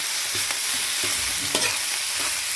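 Ground pork frying in cooking oil, a loud close sizzle broken by several scraping stir strokes in an irregular rhythm.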